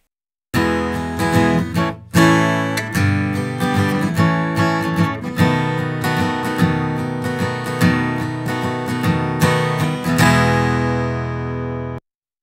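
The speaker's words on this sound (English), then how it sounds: "Here's my 6-string guitar on its own." Six-string acoustic guitar playing alone, a continuous strummed and picked passage of bright ringing chords with a brief break near the start, close and full, stopping abruptly at the end.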